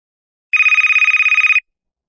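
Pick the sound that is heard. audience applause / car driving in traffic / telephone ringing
telephone ringing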